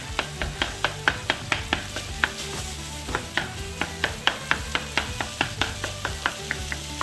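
About 1.5 pounds of lean ground venison cooks in a pan with carrots and onions, a sizzle running under a fast, steady series of sharp knocks as a utensil breaks up the meat against the pan, close by with no talking.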